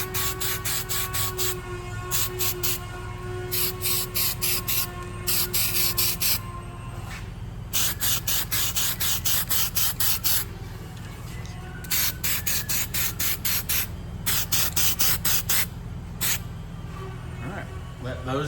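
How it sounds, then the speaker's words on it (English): Steelite coating is sprayed from an aerosol onto radius arm mounts for a 1986 Toyota 4Runner solid-axle swap, in repeated hissing bursts a second or two long with short gaps. A steady hum runs underneath. "Getting ready to spray them with some Steelite."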